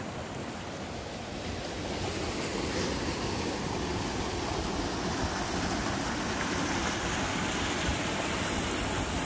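Water rushing steadily through a garden stream beneath a bridge, a constant broadband wash holding even and fairly quiet throughout with no voices.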